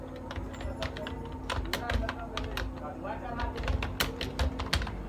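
Someone types a search into Google on a computer keyboard, producing a quick, irregular run of sharp key clicks over a steady low hum.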